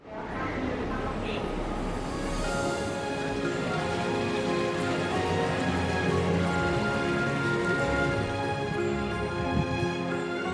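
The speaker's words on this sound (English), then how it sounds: "I've never seen a waterfall this big coming through." A massive waterfall at Heide Park theme park in Germany roars as a steady, loud wash of splashing water, with faint voices underneath.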